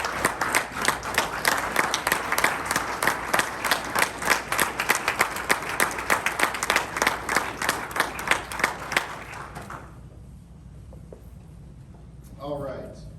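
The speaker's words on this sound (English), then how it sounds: "So, round of applause for Mary." A room at a club meeting breaks into applause for an award recipient: rhythmic, fairly loud clapping from a modest crowd that keeps going for about nine seconds, then drops off into quiet with a voice starting to speak.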